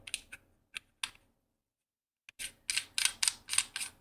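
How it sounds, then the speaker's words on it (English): A lightsaber pommel is screwed back onto the hilt, making close, crisp clicks: a few isolated ticks, a short pause, then a quick run of louder ratcheting clicks as it is tightened. "So we'll screw our pommel on."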